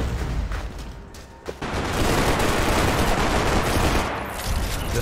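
Dense, sustained gunfire from a Max Payne 3 online multiplayer match, a sparser opening giving way to a loud, continuous barrage that eases slightly near the end.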